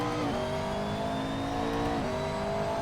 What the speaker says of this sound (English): so I don't deafen myself, but I do want to hear the cars